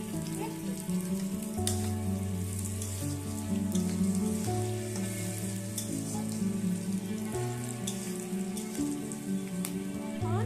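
Chapa shutki (dried fish) fries in a pan with chili powder, a constant soft sizzle and scattered crackles. Steady tonal sounds hum underneath.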